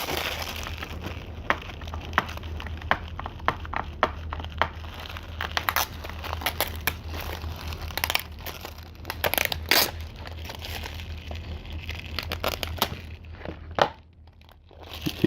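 Stickers are peeled off a Blu-ray case, giving continuous close crinkling, tearing and crackling with sharp snaps scattered throughout, fairly quiet, with no talking.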